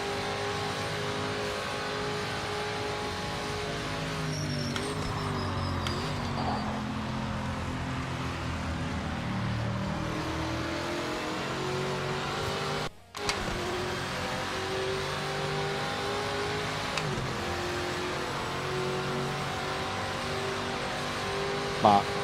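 Porsche race car engines in Project Motor Racing drone steadily at high revs, a continuous close engine roar with shifting pitch and a brief cut midway, while someone talks over it.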